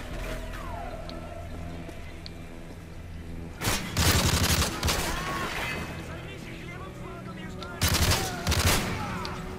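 Rapid automatic gunfire and explosions from the video game Modern Warfare 3 erupt in two loud bursts over a quieter stretch of in-game ambience.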